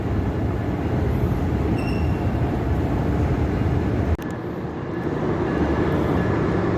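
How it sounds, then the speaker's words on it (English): An Amtrak passenger train rumbles steadily past at a distance, a broad continuous roar with faint wheel squeal, dipping slightly partway through. "So I think that's actually the Crescent, Amtrak train number 20, en route to New York Penn Station."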